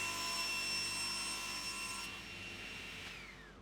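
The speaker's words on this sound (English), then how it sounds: "now I'll cut them all to length" A power saw cuts plywood pieces to length with a loud, steady high whine. The tone winds down near the end as the blade slows.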